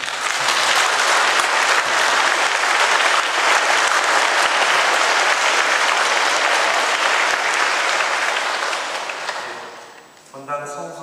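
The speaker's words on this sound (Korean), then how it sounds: "박수." Congregation applauding at a Catholic Mass celebrating a newly ordained deacon, steady loud clapping filling the church for about ten seconds before fading out near the end.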